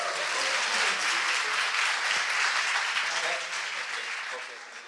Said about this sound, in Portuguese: Aplausos aí, galera!